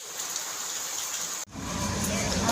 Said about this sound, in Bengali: সাজুগুজু করে বৃষ্টি হচ্ছে